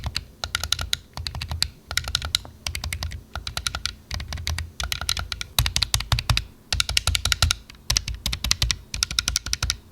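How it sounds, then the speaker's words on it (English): The ABXY membrane buttons on an 8BitDo Ultimate 2 controller are pressed in quick bursts, with clusters of sharp, close clicks separated by short pauses and repeating steadily across the whole stretch, with no voices. "when I press these buttons on WUCHANG version, it feels like they're a little bit more dampened"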